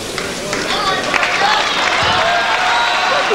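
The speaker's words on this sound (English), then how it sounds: "Good humoured crowd this evening." A packed City Hall boxing crowd of about 2,500 claps and cheers in a dense, continuous wash of noise, with no clear gaps.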